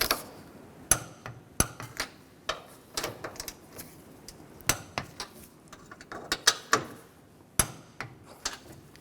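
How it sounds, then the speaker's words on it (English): Strut nuts on a 2009-2017 Chevy Traverse being tightened with a wrench during a strut boot and bumper replacement: scattered sharp metallic clicks and taps at an irregular pace, fairly quiet and close, with no talking. "Now tighten the nuts down."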